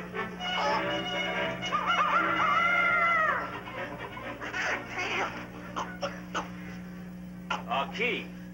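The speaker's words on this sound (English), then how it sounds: "I wanted the rooster." A rooster in an old film crows and clucks among bird calls, fairly close, over a steady hum, with people talking nearby.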